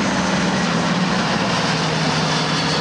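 Military aircraft at an air force base airshow, an AC-47 gunship and a C-17 Globemaster III, give off a loud, steady, continuous engine roar that fills the air without letting up, with no voices over it.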